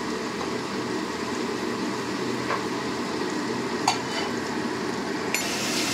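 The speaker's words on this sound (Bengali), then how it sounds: "আদা ভাজা হয়ে গেছে, এবার পেঁয়াজ দিয়েছে," Ginger paste and onion fry in a pan for potoler dorma, a soft, steady sizzle with a few faint clicks of stirring.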